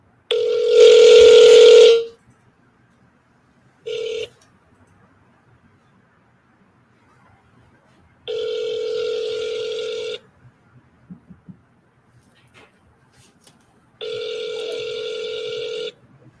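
A telephone on an outgoing call to a real estate lead: a long tone, a short beep, then two ringback tones of about two seconds each with quiet gaps between them.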